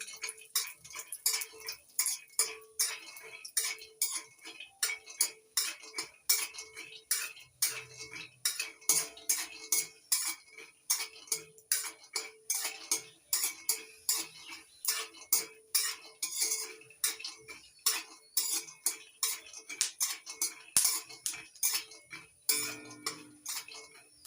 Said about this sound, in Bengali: এবার তেলের মধ্যে দিয়ে দিচ্ছি কিছুটা চীনাবাদাম। চীনাবাদাম ভেজে নেব লো টু মিডিয়াম আছে।